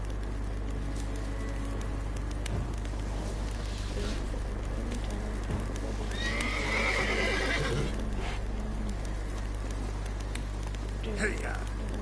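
Horse from The Witcher 3 neighing under a steady game soundscape and music, with a loud whinny around the middle and a faint hoof clip-clop, while a player talks over it.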